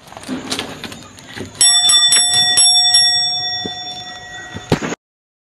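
A bell rung by a visitor at the entrance of a hillside plant nursery in Benguet, sounding as several bright, close strikes in quick succession with a lingering ring, after some faint background chatter.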